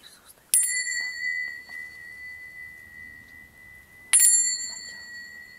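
Small bells at an outdoor Baltic camp ring out twice, each a bright metallic strike with a long sustained tone, several seconds apart, with faint background murmur between.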